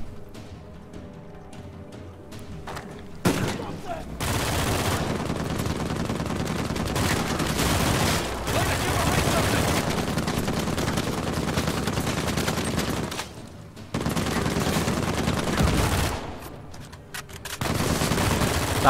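In the video game Uncharted 4, the gold gun lets loose long bursts of rapid, dense gunfire, loud and continuous for several seconds at a time and broken by short pauses, with no talking.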